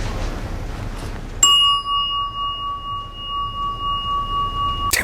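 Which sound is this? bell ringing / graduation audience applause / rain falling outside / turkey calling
bell ringing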